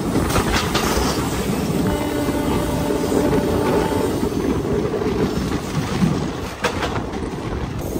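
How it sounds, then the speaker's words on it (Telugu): The Gowtami Express rolls into Kovvur station, a steady loud rumble and rattle of wheels and carriages heard from on board, with faint squeals and clanks and no talking. "అదిగోండి కొవ్వూరు స్టేషన్ లోపలికి ఎంటర్ అయ్యింది మన ట్రైన్"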